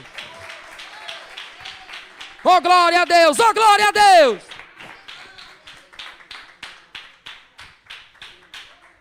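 A church congregation claps in steady rhythm during a sermon, with a loud burst of shouting and singing voices over the beat midway, then the rhythmic claps carry on alone.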